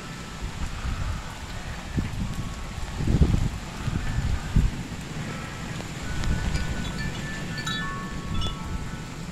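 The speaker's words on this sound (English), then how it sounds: "I have to back up in the house every so often when the wind blows the other way" Storm wind gusts buffet the microphone near a house in low, uneven rumbling surges that swell and fade, with rustling behind them.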